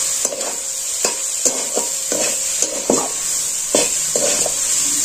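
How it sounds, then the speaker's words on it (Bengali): Scrambled egg is stirred into potatoes in a frying pan with a spatula: close, crisp scraping strokes repeat roughly every half second over a faint, steady sizzle. "এবার আমি আলুর সাথে মিশিয়ে দিই।"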